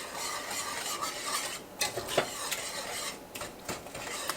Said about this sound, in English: stir this together, and bring it to a boil